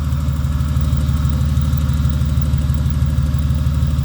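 A Ford Falcon wagon with a swapped-in AU engine, running without its exhaust on its first heat cycle, gives a loud, steady, close idle with an even pulsing throb and no talk.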